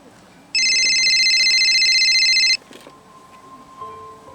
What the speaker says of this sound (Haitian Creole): mon téléphone me sonne encore